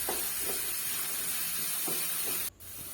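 Onions sautéing in a pan for bread upma, a steady bright sizzle with a few soft stirring knocks, then the hiss briefly drops out before resuming more quietly.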